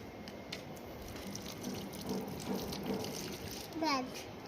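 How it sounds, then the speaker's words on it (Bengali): Water pouring from a height onto a hibiscus plant on a rooftop, a steady soft splash under a voice and other talking, ending in a brief gurgle. "জবা গাছ আছে, জল দিচ্ছি উঁচু করে।"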